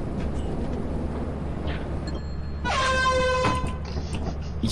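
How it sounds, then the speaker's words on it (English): A loud, blaring air horn in the video game Lethal Company sounds for about a second midway, its harmonic blast rising above a steady low rumble of background noise. "You've got an air horn,"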